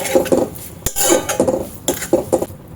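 A spoon stirs methi zunka with salt in a pan, giving rhythmic scraping strokes and a few sharp knocks of metal against the pan, close and clear, with no talking.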